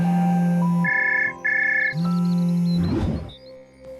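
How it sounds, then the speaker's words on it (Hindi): A phone rings with a repeating electronic ringtone, a few clear tonal bursts close by, followed by a brief rustle as it is picked up. "तभी उसके बेटे का फोन आ जाता है"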